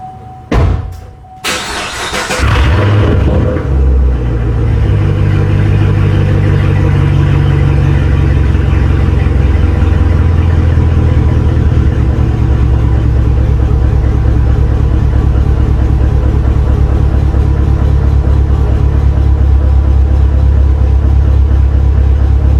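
Car engine in a garage making a warm start: a few sharp cranking bursts catch into a loud, steady idle that hums on unchanged for the rest of the time, close and alone.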